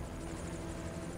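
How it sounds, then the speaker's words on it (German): A helicopter in the video game Evil Genius gives a steady low rotor drone with a constant whine, moderately quiet and unbroken, with no talk over it. "Das müsste unser Hubschrauber sein."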